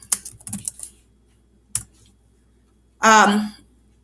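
Short bursts of keyboard typing with a few separate clicks, close by, followed by a brief burst of voice at the end.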